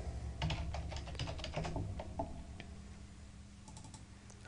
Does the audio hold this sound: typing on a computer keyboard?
yes